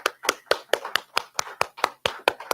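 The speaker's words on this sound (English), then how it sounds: "Let's give you a round of applause." A small group claps for a board at a church service, the sound more like sparse hand claps than full applause: about a dozen separate, evenly spaced claps, fairly close and quiet.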